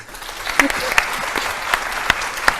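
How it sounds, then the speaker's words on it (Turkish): A small group claps briefly during a talk, the scattered hand claps light and uneven, with sharp individual claps standing out and voices mixed in. "bir alkış alabilir miyim?"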